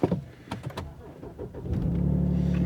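A high-mileage BMW car rustles and clicks for a moment, then its engine catches and settles into a steady, close idle hum for the final second.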